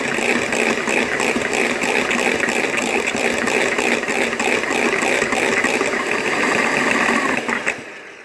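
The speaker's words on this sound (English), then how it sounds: "So I'm going to beat this just a little bit more," An electric mixer beats egg whites for Belgian waffle batter, a loud, steady whirring drone with rapid rattling that runs continuously before cutting off at the end.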